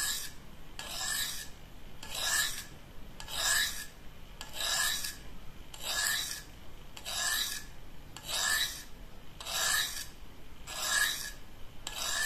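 A blade is worked back and forth on a fine-grit DMT diamond sharpening stone, making a steady gritty rasp in about a dozen even strokes of roughly a second each, close and clear with no voices.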